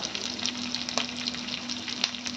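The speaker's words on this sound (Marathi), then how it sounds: "मी टोमॅटो आपलं वाटाणा आणि जे कॉर्न आहे ते थोडेसे हलकेसे फ्राय करून घेते" Peas, corn and tomato frying lightly in a pan with curry leaves and a pinch of asafoetida, a steady soft sizzle with faint crackles throughout, close and even in level.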